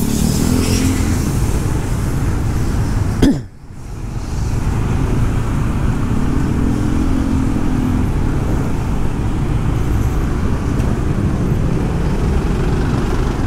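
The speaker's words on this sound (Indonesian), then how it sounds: "Macetnya kayak gini teman-teman ya." Congested traffic in Bali with cars and motorcycles crawling along a road toward an intersection, a continuous engine rumble and hiss close by, briefly dipping after a sharp knock early on, with no talk.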